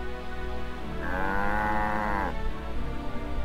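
A cow moos once in the Alundra 2 video game, a drawn-out tonal low call over a steady background of game music, clear and alone.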